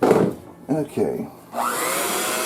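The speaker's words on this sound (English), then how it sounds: "Mixing goes on." An electric mixer whirs through cake batter for homemade Twinkie-style snack cakes in a Hostess Twinkies maker, its steady drone cutting in after a few short spoken words.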